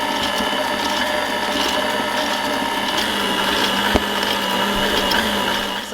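Dry ingredients being mixed into wet zucchini bread batter, giving a steady, close mechanical whirring with a gear-like rattle that runs unbroken for about six seconds, with one brief knock near the end and no talking.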